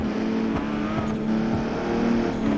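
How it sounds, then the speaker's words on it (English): GTR car engine roaring in the BeamNG driving game with nitrous, a loud, steady, close engine drone that holds high revs for nearly three seconds without a break. "I can't even hear you speak over the GTR"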